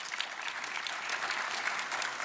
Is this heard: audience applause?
yes